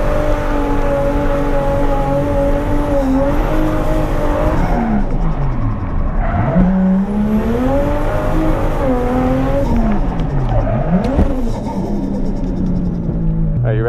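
A Toyota JZX100 Cresta drifts at Ebisu circuit, its engine revving and rising and falling through gear changes while tires squeal loudly, close and continuous from inside the car.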